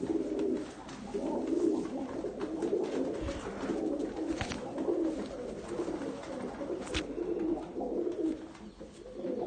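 A pigeon of a Malwa flying breed coos in repeated low, rolling calls close by, with a few sharp clicks and knocks in the background and no talk.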